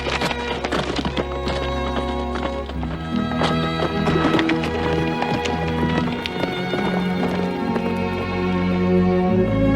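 Horse hooves clip-clop in an irregular rhythm as a rider backs his horse, mixed with a whinny and a loud, sustained musical score in a Western setting.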